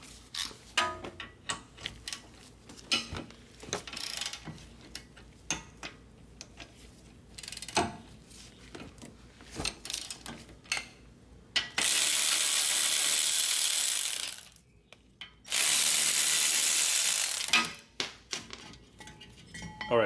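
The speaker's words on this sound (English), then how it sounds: "now let's undo these two 17mm bolts" A ratchet working two 17mm caliper bracket bolts loose on a Toyota Highlander front brake, giving repeated short clicking bursts and intermittent metallic clatter in a garage, with two longer steady hissing stretches partway through.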